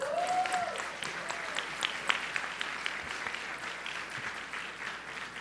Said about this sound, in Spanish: Excelente, un aplauso.